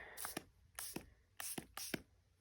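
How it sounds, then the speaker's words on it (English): Four short hissing bursts of aerosol spray into a garbage can, each about a third of a second, spaced evenly apart and fairly quiet, with no talking. "I'm just spraying it in the garbage for a minute to get it going"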